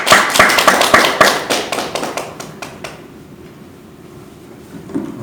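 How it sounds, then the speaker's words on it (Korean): An audience claps together at a business information session, starting loud and dense with sharp overlapping claps in a hall and then tapering off to a faint room hush. "힘차게 시작하는 의미로 같이 박수 한번 치고 가겠습니다"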